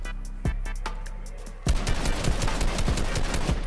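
Gunfire in Fortnite, a few sharp separated pistol shots at first, then a dense rapid burst of loud overlapping shots and impacts.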